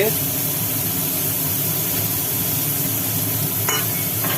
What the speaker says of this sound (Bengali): কয়েকটা চিংড়ি মাছ তেলের মধ্যে দেওয়া হলো সম্ভবত এগুলি এগুলি ভাজা হবে